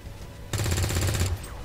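Automatic gunfire fires in a video game as a single rapid burst of about a second, loud against a quiet background with no voices.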